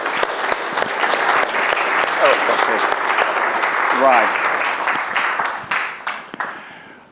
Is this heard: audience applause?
yes